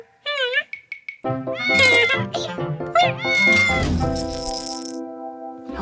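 A cartoon cat-shaped piggy bank meows in a bright, sing-song voice amid musical tones and a coin-drop chime, with a voice and music around it.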